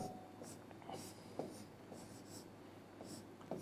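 Pen or marker strokes writing out a circuit equation on a board during a physics lesson, faint scratchy bursts in an irregular rhythm over a quiet room hum.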